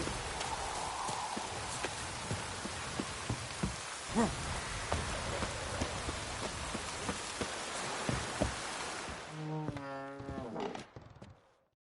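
Rain patters steadily in The Witcher 3 game, a broad hiss with intermittent drop ticks, and near the end a low cattle-like moo rises briefly before the sound fades out.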